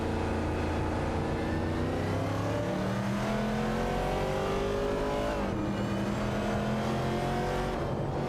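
Race cars engines roar continuously in a video game TransAm race at Laguna Seca, several cars revving and shifting with rising pitch sweeps, loud and steady throughout with no talking.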